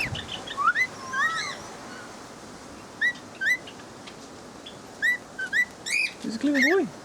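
Short, bright bird whistles in separate bursts, rising and falling, with quiet gaps between calls and a softer lower call near the end.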